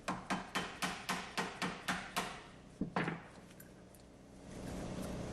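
A drive sprocket being tapped onto a concrete-fill pump shaft: about ten sharp metallic taps at a steady rhythm, then two more strikes, close and clear, followed by a quiet low hum.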